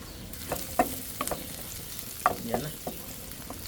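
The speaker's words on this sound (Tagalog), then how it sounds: "Sama natin sa gisa ang sili tsaka dahon ng laurel." Chili peppers and bay leaves sautéing with onion in a hot pan, a soft steady sizzle broken by repeated sharp clicks and scrapes of a utensil stirring against the pan, no talking.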